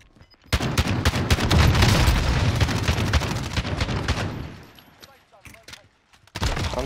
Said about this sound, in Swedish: Han tog 25 skott av shotgun i ansiktet